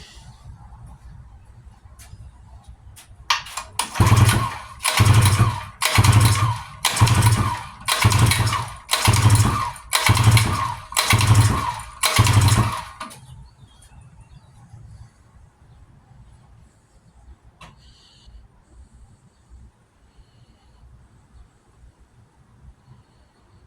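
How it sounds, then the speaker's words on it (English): A Gamefisher 5.0 outboard engine cranks over during a compression test in a steady rhythmic series of about nine chugging pulses, then stops, leaving a quiet background. "We are going to give her a little compression test here."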